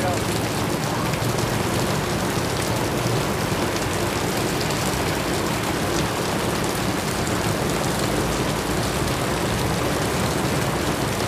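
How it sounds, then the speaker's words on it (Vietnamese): Heavy tropical downpour pounding steadily on the street and surfaces, a dense, loud, unbroken hiss of rain throughout with no pauses. "Mưa tầm tã."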